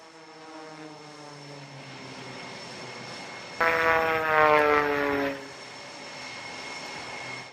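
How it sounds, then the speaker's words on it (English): Aerobatic propeller airplane performing at the Hill Air Show, a droning engine with a wavering, rising-and-falling pitch that surges louder for a couple of seconds as the plane passes, then settles back to a steady distant drone. "Torquing the aircraft at minimum speed, holding the altitude."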